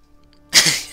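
A single sharp sneeze bursts out loud and close after near silence during a GTA 5 Online game session, with a brief trailing breath.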